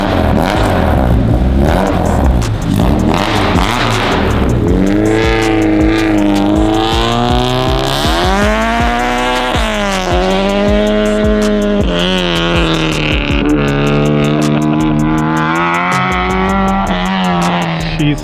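A loud car, likely a Honda Civic, revs hard and drives off, engine pitch sweeping up and down through repeated gear pulls, continuous and close with no talking.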